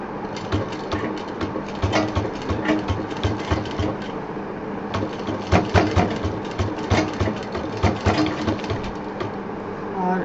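A sewing machine stitches a cloth door mat in a run of rapid, rattling mechanical bursts with brief pauses, steady and close, without voices.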